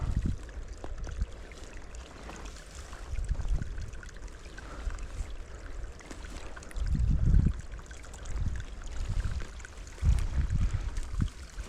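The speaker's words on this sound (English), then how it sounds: "I hear a bit of a trickle, a stream running down here" Small stream or brook trickling faintly beside a hillside path, a low steady babble with occasional soft surges, heard from close by in a quiet outdoor setting.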